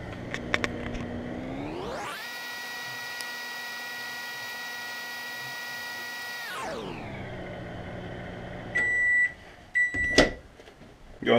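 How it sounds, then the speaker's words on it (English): A microwave oven runs for about four and a half seconds with a steady loud hum while heating and drying a piece of maple wood, then stops; afterward come beeps and clunks of the door and handling. "now I'm going to go ahead and pop it in the microwave"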